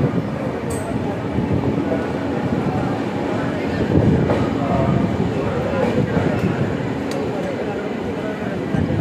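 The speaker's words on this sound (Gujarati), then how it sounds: "8:58 આપણી ટ્રેન દાહોદમાં આવી ગઈ છે" A passenger train rumbles into Dahod railway station, a steady low roar of wheels and carriages with faint rail clatter, under intermittent talk nearby.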